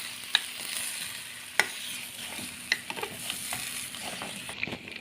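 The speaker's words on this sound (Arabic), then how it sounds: "وابدا اقلب كل ده مع بعض" Potatoes and chicken with garlic and spices are stirred in a pan, a steady sizzle under scattered scraping clacks of the spoon against the pan, close and alone.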